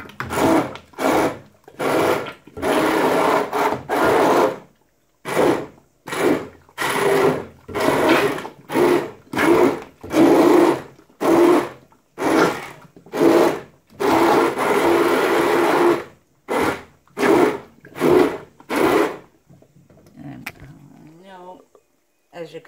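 A blender whirs through grapes for jam in repeated loud bursts, pulsing on and off in steady short runs before trailing into quieter rattling at the end.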